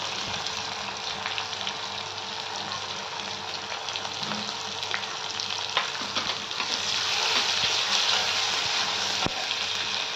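Ginger-garlic paste and turmeric sizzle loudly and steadily in hot oil in a pan for a Marathi-style prawn curry, a continuous close frying hiss with faint stirring and no talk.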